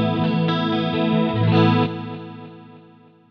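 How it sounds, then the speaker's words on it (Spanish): Electric guitar run through a pedalboard with chorus and delay effects, strummed chords ringing with a shimmering, wavering tone and then trailing off into a long, echoing decay with no voices. "Si vuelvo al 4, voy a tener el chorus con delay."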